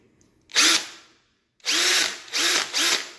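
A battery-powered drill runs in short bursts, spinning up, stopping, then whirring again in three close pulses, loud and near, used while replacing the power window regulator and door lock in a Volkswagen Polo front door.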